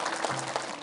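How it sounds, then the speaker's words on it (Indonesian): A studio audience at an Indonesian religious TV programme claps for a women's group from Bekasi, a brief dense burst of many hands, close and even, with no talk over it. "Tepuk tangan buat Bekasi."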